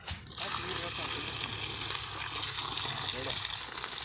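Water pours in a steady, continuous gush on a farm field, loud and close throughout, with a faint voice underneath.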